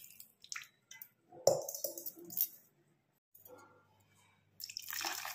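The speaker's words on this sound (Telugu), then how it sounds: "ఈ నూకని మనం వాటర్ పోసి 3 గ్లాసులు గోధుమ నూక వాటర్ పోసి బాగా కలుపుకోవాలి." Broken wheat rava is stirred with water in a bowl, producing soft wet squishing and sloshing bursts that come and go, close and fairly quiet, separated by pauses of silence.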